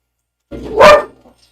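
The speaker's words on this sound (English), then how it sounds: "What is one dog bark, other dog bark?" A single dog bark, sharp and fairly loud with a brief rising onset and quick fade, heard alone against quiet background.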